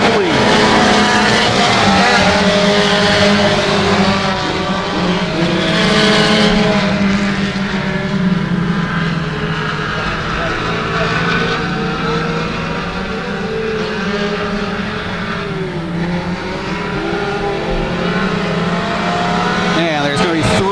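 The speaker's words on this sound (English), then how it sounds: "from hot lap session number 1 for the mini stocks, and here they go" Mini stock race cars roar together around the Genesee dirt track in a loud, sustained, shifting drone of engines rising and falling as they pass, while an announcer talks over the pack.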